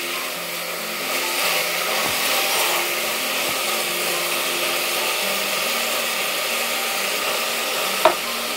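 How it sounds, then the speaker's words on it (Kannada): Tomatoes frying in oil for tomato bath (tomato rice): a steady close sizzle with soft stirring scrapes throughout, and one sharp spatula tap near the end. "ಟೊಮೊಟೊ ಹಾಕಿದ ಮೇಲೆ ಒಂದು 2 ನಿಮಿಷ ಇದನ್ನು ನೀಟಾಗಿ ಫ್ರೈ ಮಾಡ್ಕೊಳ್ಳಿ."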